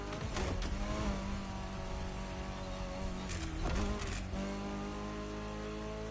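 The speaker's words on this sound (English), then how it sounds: "I've driven a lot of rally cars in this game, and holy shit, this thing's just a little too rapid for my liking" A rally car in The Crew Motorfest revs hard with a steady engine whine, a brief tire squeal and a sharp shift around the middle, loud and close with no talking.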